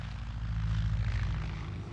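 An archival propeller airplane drones overhead, a steady loud engine roar with strong low rumble held for the whole short stretch.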